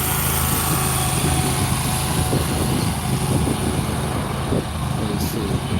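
A lawn mower engine drones steadily and loudly throughout at close range, a continuous motor hum with no break.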